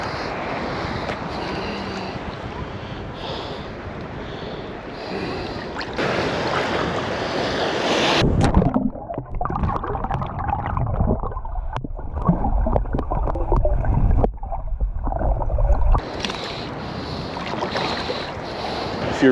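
Waves on Lake Michigan slap and wash against a small floating camera, with loud rushing water and wind, briefly muffled as it dips under the surface, then splashing back into the open air.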